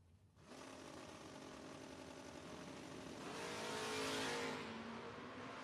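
At a drag racing event, a Camaro races in the FRBR Independence Showdown: a distant, faint engine roar builds to a swell and then eases back off, with no voices.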